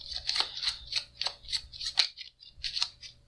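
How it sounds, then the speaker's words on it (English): A deck of playing cards is shuffled during a magician's gambling demonstration: a close, solitary run of crisp, rapid riffling bursts with a brief pause near the end. "So again, you'll have the customary shuffle."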